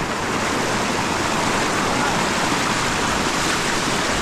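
Loud, steady roar of the rising Dumacaa River, broad and unbroken throughout, with no voices over it.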